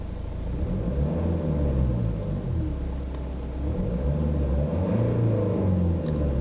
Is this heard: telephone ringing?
no